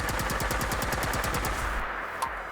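X12 energy weapon in Fallout 4 firing a rapid burst of homing shots, a fast regular string of sharp cracks for about a second and a half, then a brief trailing tail and one faint blip.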